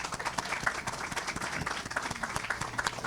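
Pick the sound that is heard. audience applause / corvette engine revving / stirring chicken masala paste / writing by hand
audience applause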